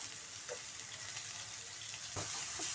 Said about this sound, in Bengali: এখন আমি নেড়ে চেড়ে বাটাটাকে ভালোভাবে কষিয়ে নেব।